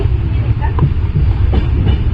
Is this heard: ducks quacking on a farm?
no